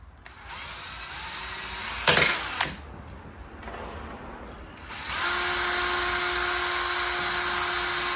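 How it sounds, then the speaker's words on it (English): A power drill bores out rivets set in plastic trim on a 1986 Dodge Daytona Turbo Z Shelby, whining in bursts with short pauses, then a steady, loud sustained run near the end. "See if I can drill these rivets out without completely destroying this plastic."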